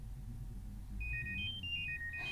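Technics AZ80 wireless earbuds emit a locate alert, a quick series of high electronic beeping tones that start after a quiet moment and swell, heard close and alone.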